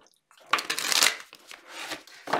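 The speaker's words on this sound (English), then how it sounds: "I want to get a good shuffle here for you." Tarot cards are shuffled up close in a few brisk riffling bursts separated by short pauses.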